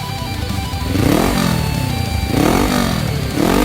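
A Suzuki GS 500 motorcycle engine revs up and down in repeated swells, loud and close, with a rough, throaty idle between the rises.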